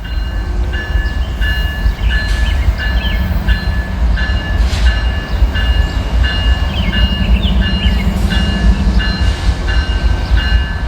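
A freight train rumbles steadily through a level crossing in Wyoming. The wheels roll continuously and close by, with clattering and metallic squeals. The train stays loud across the whole stretch, and no voices are heard.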